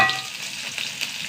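Mustard seeds sputter and crackle in hot oil, a dense, steady sizzle with a few sharper pops, close and fairly loud, with no talking.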